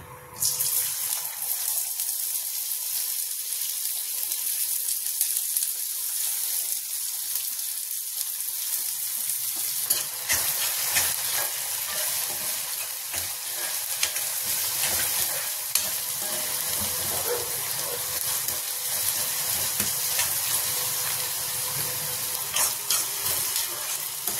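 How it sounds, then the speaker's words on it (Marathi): Onion frying in oil in a pan for a finely chopped fenugreek leaf dish gives a steady, close sizzle that holds for the whole stretch, with no talking. "ह्याच्यात मी आता थोडं तेल घालते. ह्याच्यात आता मी कांदा घालून घेते."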